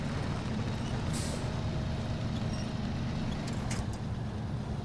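A heavy truck engine drones loudly and steadily in the SnowRunner game, with short hissing bursts like an air brake release cutting in near the start and again toward the end, with no talk.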